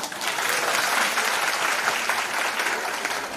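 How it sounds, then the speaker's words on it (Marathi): A crowd of women claps at a Home Minister game show event for Dussehra, a dense, loud, sustained burst of applause filling the whole moment. "मग टाळ्यांचा आवाज कधी येणार?"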